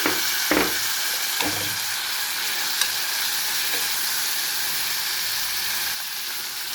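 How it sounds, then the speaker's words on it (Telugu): Broad beans fry in a pan with a steady loud sizzle while a utensil stirs them, scraping the pan a few times against the constant hiss. "చిక్కుడుకాయ వేసినాక ఇట్లా మంచిగా కలపాలండి."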